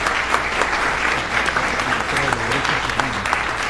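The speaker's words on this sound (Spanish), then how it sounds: "Aplausos para él." Audience applause at a ceremony honoring a lawyer with an emeritus distinction, steady and sustained across the whole stretch with faint voices mixed into the crowd noise.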